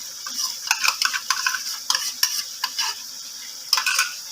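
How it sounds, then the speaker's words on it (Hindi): Chicken with green chillies and a cup of yogurt being stirred in a pot, a quick series of spoon scrapes and clinks over a soft sizzle, close up with no talk. "इसको अच्छी तरह मिक्स करेंगे।"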